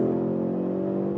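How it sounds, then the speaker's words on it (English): A sports sedan's engine drones at high speed on a track around a chicane at about 160 km/h, a steady harmonic hum held at even pitch and loudness throughout, heard from inside the car with no talk. "And you hear a lot of the engine"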